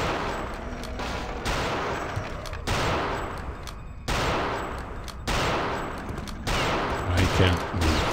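Dense, continuous gunfire in the video game Return to Castle Wolfenstein, loud overlapping bursts in choppy segments with abrupt cuts between them, a voice briefly audible near the end.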